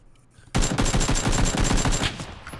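Automatic gunfire in the battle-royale game PlayerUnknown's Battlegrounds erupts after a brief quiet, with a loud, rapid string of shots lasting about a second and a half before tailing off.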